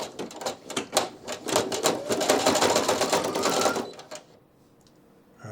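Brother PE900 embroidery machine stitching a Photo Stitch design, a loud, fast, steady mechanical needle chatter that runs for about four seconds before cutting off to near silence.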